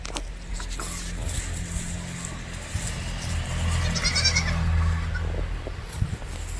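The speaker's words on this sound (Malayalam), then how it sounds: "മൊത്തം 9 ആടുകൾ." Goats, part of a group of nine small and large animals offered for sale, bleat a few times nearby, with a low vehicle rumble running underneath.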